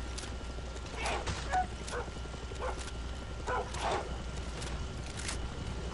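Big dogs in the Far Cry 6 video game bark in several short bursts over a low rumbling game ambience, moderately loud and somewhat distant.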